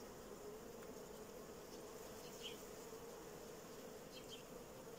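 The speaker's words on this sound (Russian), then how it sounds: "Труху, пчелу трушу прям в улей сюда." Honey bees hum in a continuous, even drone as they are shaken off frames into a hive during a swarm split; the buzzing is faint and steady with no talk over it.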